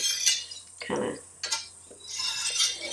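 A large whisk cuts through kefir-cultured raw milk feta curd, giving light clinks and soft sloshing strokes against the pot, a few separate gentle passes close by.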